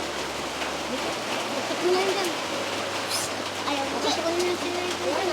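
Heavy rain pours steadily and loudly throughout, a dense continuous roar of water with a faint low hum beneath.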